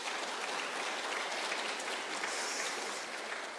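A church congregation claps steadily for its elders during a Korean Sunday sermon, a dense, even wash of applause that holds for several seconds with no voices.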